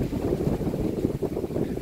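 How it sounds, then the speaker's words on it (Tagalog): Strong wind buffeting a microphone outdoors, a loud low rumbling roar that pulses unevenly and fills the whole moment with no voices. "Ay, lakas ng hangin."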